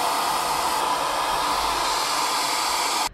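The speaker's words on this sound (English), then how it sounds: "two hair dryers, the Shark HyperAir and the TYMO AirHype Lite" A Shark HyperAir or TYMO AirHype Lite hair dryer blows steadily while drying curly hair, a loud continuous whooshing roar held for about three seconds before it cuts off abruptly.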